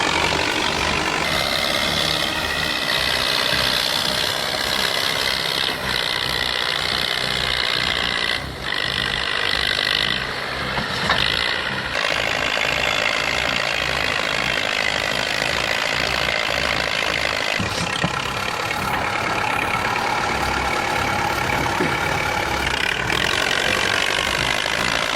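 An old heavy diesel machine engine runs at a steady rumbling idle, loud and close, with a constant low drone and some clattering mechanical texture.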